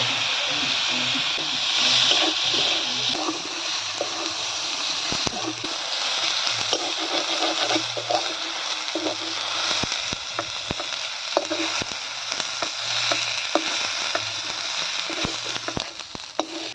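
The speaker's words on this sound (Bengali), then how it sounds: "তো মশলা ভাজা হয়ে গেছে।" Spices frying in a pan with ginger and garlic, a persistent sizzle with scattered clicks and stirring knocks, faint talk and background sounds beneath.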